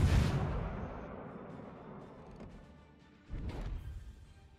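Warship main guns fire in a naval battle video game: a heavy boom opens and rumbles away slowly, then a second, softer blast lands about three seconds later, with no voices.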